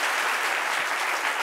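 Studio audience applauding on a French-language talk show from Côte d'Ivoire: loud, dense clapping that fills the whole moment evenly and close up, with no voices over it.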